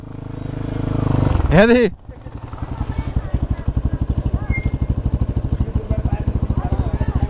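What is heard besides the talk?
Crossfire motorcycle riding off-road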